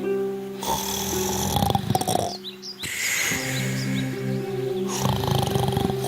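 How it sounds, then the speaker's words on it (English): Loud, drawn-out snoring in repeated long breaths, with bird chirps and a short pause between snores. "The wolf lay under a tree on the yard and started to sleep, snoring."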